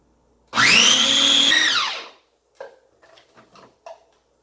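A blender whirs taco sauce in one loud, close burst of about a second and a half, winding down, followed by a few soft clicks and knocks.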